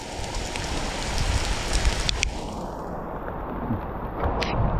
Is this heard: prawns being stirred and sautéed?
no